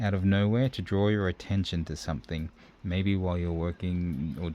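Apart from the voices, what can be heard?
No everyday noise stands out behind the speech.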